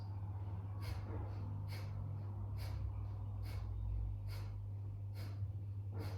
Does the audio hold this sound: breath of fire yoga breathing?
yes